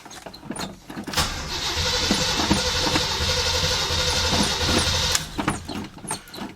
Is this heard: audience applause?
no